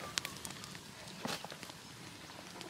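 A midday bonfire of gnarled wood crackles and pops outdoors in rural New Zealand countryside, faint irregular snaps over a low steady background.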